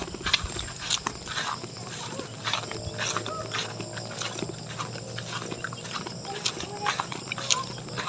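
Goats on a farm bleat repeatedly at close range, with several calls scattered throughout and people talking intermittently.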